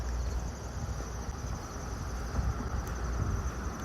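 A steady, high cricket chirring drones continuously outdoors over a broad wash of wind and low rumble, with no pauses.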